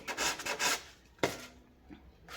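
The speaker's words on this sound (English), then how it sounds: "you should use a sandpaper with a higher grit, like this one. It's grit 1200." Fine 1200-grit sandpaper rubs across wood in a few soft, quick back-and-forth strokes, faint and close, with a brief scraping pause between passes.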